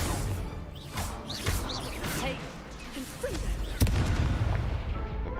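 Incendio fire spells cast in Hogwarts Legacy give repeated bursting, booming blasts over a busy game soundscape, with a sharp crack near the end and a voice talking throughout.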